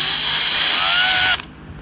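An electric drill with a Time-Sert drill bit bores into an engine cylinder head, a loud high whine that holds for over a second and then cuts off abruptly, close up with no talk.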